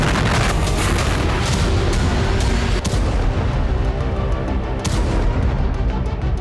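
Explosions from Russian attacks in Ukraine, fired from ground and air: heavy booms and rumbling blasts roll over one another continuously, with a couple of sharper cracks standing out, loud and without voices.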